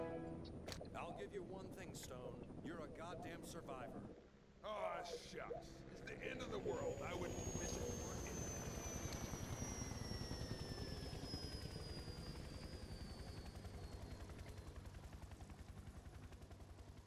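Whirring helicopter rotor drone in the game Serious Sam 3: BFE, loud and steady, starting amid rapid gunfire bursts and continuing alone as the shooting stops.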